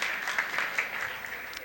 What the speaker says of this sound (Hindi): एक बार आप लोग तालियों से सूचित कीजिए